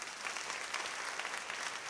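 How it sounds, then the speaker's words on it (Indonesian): Applause fills a church worship meeting, a steady wash of many hands clapping together with no voices rising above it. "Tepuk tangan buat Tuhan."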